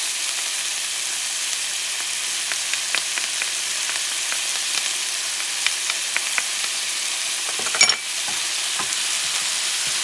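Garlic frying in a pan while cooking rice with scallops and chickpeas: a constant close sizzle with scattered stirring clicks and scrapes, and one louder clatter near the end.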